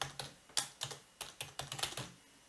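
Computer keyboard typing, close and clear, in short bursts of keystrokes with brief pauses, alone without talk.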